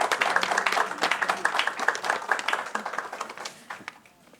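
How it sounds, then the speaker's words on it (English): Audience applause at a women's empowerment event: dense, steady clapping from many hands, fairly close, tapering off toward the end. "Give her a big round of applause."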